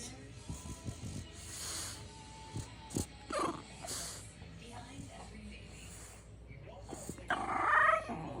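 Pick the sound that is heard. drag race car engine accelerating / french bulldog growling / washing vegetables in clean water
french bulldog growling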